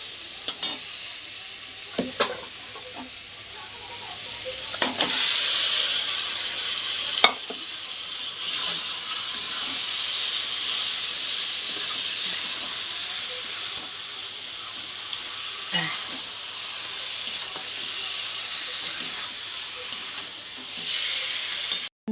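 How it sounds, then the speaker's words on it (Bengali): Marinated meat dropped into a pan of sizzling spice masala, a loud hissing sizzle that holds steady for over twenty seconds, broken by occasional clinks and stirring knocks of a spoon. "আর এখন আমি ম্যারিনেট করা মাংসটা আমি এখন এর মধ্যে দিয়ে দেবো।"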